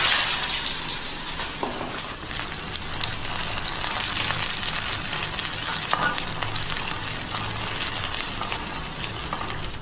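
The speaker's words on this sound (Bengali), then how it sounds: "তেল গরম হয়ে গেছে, এবারে পেঁয়াজ আর কাঁচা লঙ্কাটা দিয়ে দেবো।" Steady, loud sizzling of onions and green chillies frying in hot oil, a continuous crackle with occasional sharper pops, no talking.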